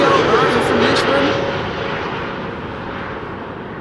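A Transavia Airbus A321neo arrives from Lisbon at Amsterdam Schiphol, its jet engine roar loud and close at first before slowly fading, with a steady whine running through it.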